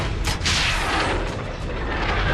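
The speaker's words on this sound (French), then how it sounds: "Réduction d'altitude, cible à 5 secondes. Bombe larguée." Bombs from an air strike exploding in the video game Call of Duty MW3, two loud booming blasts in quick succession followed by a rumbling, crackling wash of debris and distant impacts.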